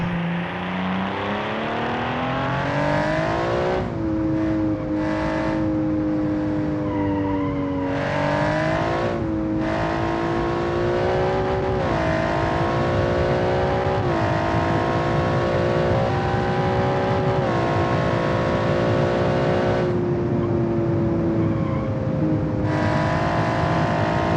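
A powerful race car engine in the driving game BeamNG drones continuously and loudly, its pitch rising through the revs and dipping repeatedly at gear shifts.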